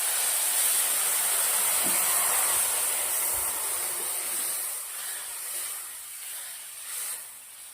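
Hot water is poured into a pan of roasting vermicelli (sev), setting off a loud, steady, close hiss of steam that holds throughout and eases off slightly toward the end.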